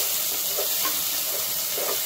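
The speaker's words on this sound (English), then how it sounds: "Now we'll add the onions." Chopped onions sizzle in hot oil in a pan for Kerala-style sambhar, a steady close hiss and crackle with soft stirring bumps throughout, no voices.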